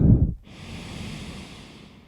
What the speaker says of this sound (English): Take another half inhale, followed by a deep full inhale